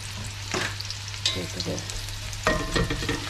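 Onions fry in ghee for pulao, sizzling steadily up close, with louder bursts as a spoon stirs them through the hot fat.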